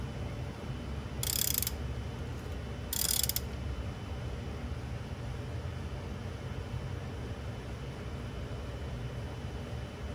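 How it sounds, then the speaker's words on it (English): Two short bursts of ratcheting clicks from a torque wrench tightening the oil drain plug on a BMW E36 M3, close and crisp against a quiet background hum. "I'm going to torque this down to 18 foot-pounds."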